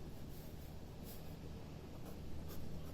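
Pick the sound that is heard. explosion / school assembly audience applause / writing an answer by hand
writing an answer by hand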